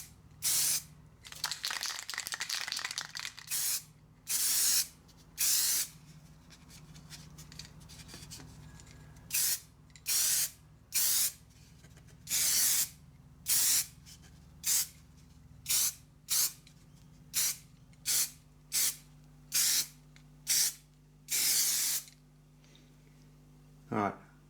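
A spray can coats a 3D printed casting pattern in repeated short bursts of loud, close hissing, roughly twenty spurts with brief gaps, each ending in an abrupt cutoff over a faint low hum.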